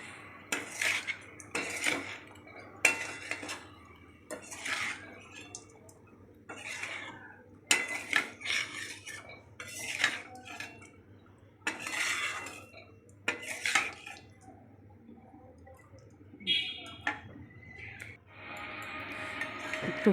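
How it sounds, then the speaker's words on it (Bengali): Mango pulao rice being mixed with spices in a pot, heard as bursts of metal spoon scraping and clinking against the pot with quiet gaps between, close and without talk. "ভাতগুলোর সঙ্গে মশলাটা ভালো করে মাখিয়ে নিলাম"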